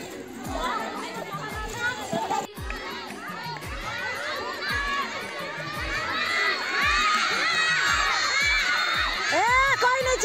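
Children shout and chatter loudly during a group game at a women's awareness camp run by a child development department, a continuous crowd noise with whoops and cheers that grows louder toward the end, alongside dull rhythmic thumps.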